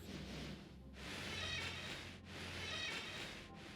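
Cats in the Phobies game meow in two long, drawn-out, wavering calls one after another, quiet and soft against a low background hum.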